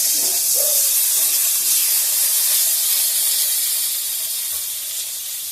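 Tomato going into a hot pan of spiced oil for a sago and vegetable khichuri, giving a loud, steady steamy sizzle and hiss that slowly fades toward the end.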